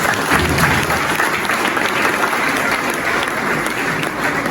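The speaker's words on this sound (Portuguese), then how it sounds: "Eu quero que você aplauda bem forte o nome do Senhor Jesus." A church congregation at a pastors' round-table gathering applauds loudly in praise of Jesus, a dense, steady wash of clapping that carries through the whole moment without speech.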